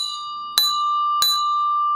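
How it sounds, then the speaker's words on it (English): A bell struck twice within two seconds during a live stock-trading stream, with a steady high tone sustained underneath; each strike is loud, bright and close, ringing out briefly. "That means 3 dings on the bell."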